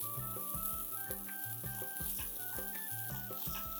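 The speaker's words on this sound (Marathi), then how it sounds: "आता हे सगळं व्यवस्थित परतून घ्यायचं आहे." Garlic, chillies, cumin, coriander and peanuts sizzle as they roast in a pan, a steady crackling fry broken by rhythmic scraping and stirring strokes, close and fairly quiet, with no voices.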